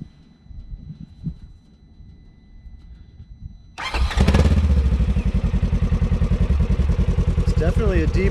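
A Polaris RZR S fitted with a spark arrestor exhaust starts after a quiet stretch of faint talking, then settles into a loud, close idle with a rapid, even pulsing rumble.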